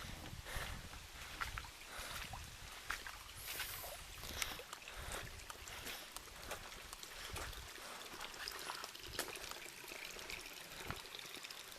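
A small waterfall on a wilderness tributary stream gives a steady, close rushing and splashing of water that runs without a break and with no voices.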